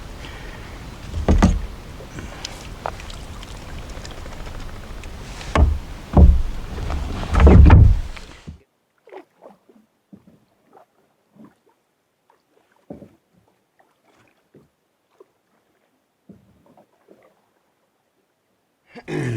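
A canoe is paddled on a lake, with close, rhythmic paddle strokes, water swishing and hull knocks, followed by a quieter stretch of faint, scattered dips and drips.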